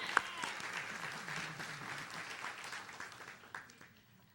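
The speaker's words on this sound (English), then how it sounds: "Please, a warm round of applause for Dr." A room applauds a panelist at a political panel, sustained crowd clapping that swells early and tapers off toward the end, with faint voices beneath.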